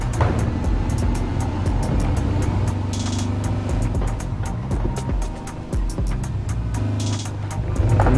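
A tuned VW Combi van in Gran Turismo Sport racing at Le Mans, a loud continuous engine drone that dips and rises through a corner with repeated clicking shifts.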